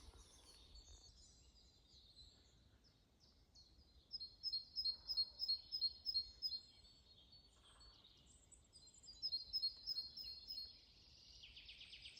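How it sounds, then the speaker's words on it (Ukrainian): Birds singing in a quiet forest, faint chirps joined by two bright rhythmic trilling phrases of repeated notes, no talking. "Послухайте, як е, пташки співають."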